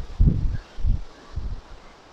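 Gusts of wind buffet through an old graveyard beside a ruined church, coming in three low rumbling bursts close to the microphone.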